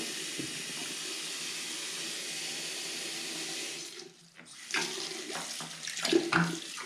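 Lab equipment is washed under a running tap in a sink, with a steady hiss of flowing water that briefly breaks off, then returns with splashing and clinks of glassware under the stream.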